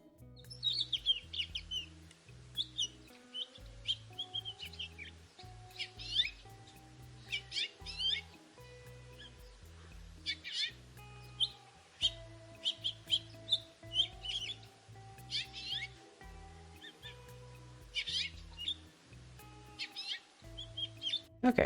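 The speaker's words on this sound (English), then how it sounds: "Okay, American goldfinch." American goldfinch song played back as a recording: a busy stream of bright, high chirps and twittering phrases running throughout, layered over a steady low tonal pattern beneath.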